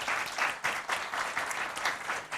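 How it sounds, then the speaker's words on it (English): An audience at a panel discussion on disability and work claps warmly for the panelists, a dense, steady round of applause from many hands heard close by and unbroken. "I just want to give our panelists a very warm round of applause for their thoughts"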